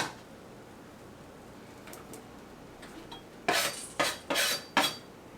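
An onion is chopped on a board: four crisp knife strikes near the end, close and distinct, coming after a quiet stretch with a few faint ticks.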